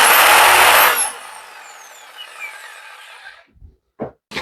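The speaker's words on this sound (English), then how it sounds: "And a sawzall." A corded Sawzall reciprocating saw buzzes hard for about a second in a workshop, powered from a DEWENWILS extension cord reel, then coasts down over a few seconds, ending in quiet thumps of handling.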